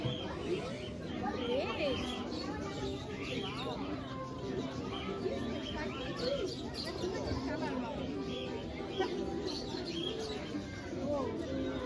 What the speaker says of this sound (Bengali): কি রং বেরঙের সুন্দর সুন্দর পাখি দেখুন